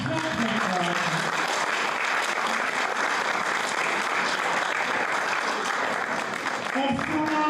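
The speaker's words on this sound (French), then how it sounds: "je vous demande d'ores et déjà de les applaudir très très fort" Loud, sustained audience applause at a Miss beauty pageant as two numbered contestants step forward, with crowd noise mixed in and brief voices near the start and end.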